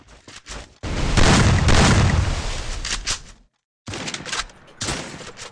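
Heavy gunfire pounds against gloo walls in the battle royale game Free Fire, a loud dense barrage of booming shots lasting about three seconds, then a sudden silence before several more bursts of fire.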